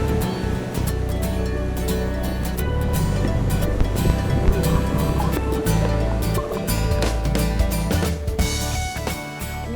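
Waves wash steadily at Tinalisayan Beach near a boat, a continuous broad rush of surf and water with wind buffeting the microphone and faint clicks scattered through.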